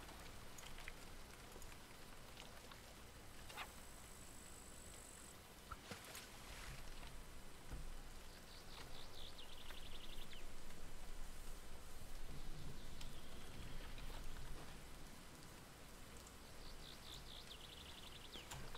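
Steady rain hiss in The Fisher Online fishing game, a soft continuous wash with faint droplet patter and brief higher tones, swelling slightly in the middle and running on without talk.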